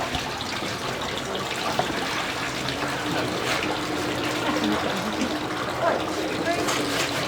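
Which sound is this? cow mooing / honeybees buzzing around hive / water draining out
water draining out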